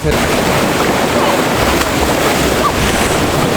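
Continuous loud rush of water at a waterfall beside an old mill building in Olsztyn, a dense broadband roar with wind buffeting the microphone throughout.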